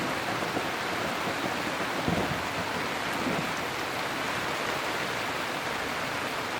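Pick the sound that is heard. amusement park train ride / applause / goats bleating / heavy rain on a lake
heavy rain on a lake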